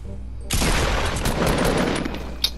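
A loud burst of rapid gunfire in Fortnite starts suddenly and keeps rattling for about two seconds, close and dense, then ends with one sharp crack.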